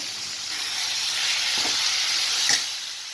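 Steady sizzle of eggplant curry frying in a pan as ground spice paste and water go in, with a brief louder hiss and bubbling burst near the end.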